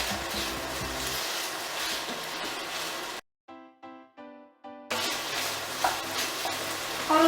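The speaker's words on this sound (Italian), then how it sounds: "Ho rosolato per qualche minuto le patate" Potatoes sautéing and being stirred in a pot for Neapolitan pasta e patate, a steady close sizzle with scraping stirs, broken by a short quiet stretch with a few separate clinks before the frying resumes.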